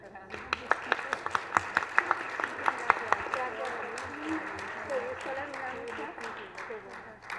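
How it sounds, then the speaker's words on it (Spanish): An audience gives an ovation for the author Fernanda Trías at the Guadalajara book fair, scattered claps rising through steady clapping over a murmuring room, moderately near with light talk beneath. "darle una merecida ovación el día de hoy"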